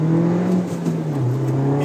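Steady droning engine note inside the cabin of a 2013 MINI JCW with its resonator removed, cruising in fifth gear with a loud constant low hum and a slight dip midway, no talk.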